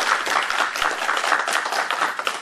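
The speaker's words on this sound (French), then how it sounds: "Ça mérite un applaudissement." Audience applause at a festive gathering of the PDCI-RDA women's union in Paris: steady, dense clapping from many hands, fairly close and sustained throughout with no talk over it.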